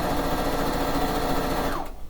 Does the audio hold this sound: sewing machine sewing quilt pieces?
yes